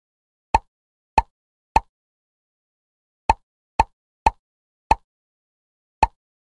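Bubbles popping one by one as they are tapped in a children's number-learning game, eight short, crisp plops spaced irregularly, each isolated against silence.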